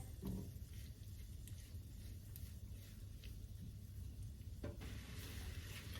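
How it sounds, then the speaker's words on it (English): Shrimp frying in a pan with onion and seasoning for paprika shrimp pasta, a steady close sizzle with faint stirring scrapes and a couple of brief clinks, no voices. "I'm going to let my shrimp cook for a total of 6 minutes"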